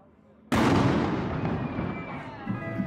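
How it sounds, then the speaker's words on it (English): The Grič cannon fires its noon shot from a tower in Zagreb, Croatia: one sudden loud boom after a quiet moment, followed by a long rumbling echo that decays over a couple of seconds. "this cannon gets fired every day at exactly noon"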